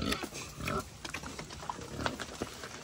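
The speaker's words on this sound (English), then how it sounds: "Bunch of wet pigs." A bunch of wet pigs grunt and snort close by on a rainy day at an animal sanctuary, a busy overlapping jumble of short low calls.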